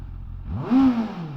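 A Benda LFC700 motorcycle engine gives a single short rev, rising quickly and then falling back toward idle, heard fairly close and alone.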